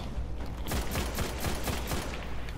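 Rapid gunfire in the shooter game Destiny crackles as a dense, fairly quiet burst of repeated shots lasting a couple of seconds, with no talking over it.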